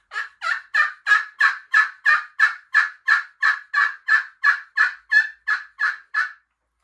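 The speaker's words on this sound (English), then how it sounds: "Hens can come through the woods yelping." A wild turkey hen yelps in a long, even run of about eighteen sharp, evenly spaced notes, clear and close against a silent background.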